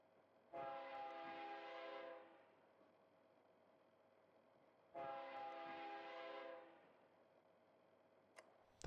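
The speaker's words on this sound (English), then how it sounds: "That's a hefty train klaxon." A train horn from the Train Kit children's app game sounds twice, each blast a long steady multi-tone honk of roughly a second and a half, separated by a short silence, clean and alone.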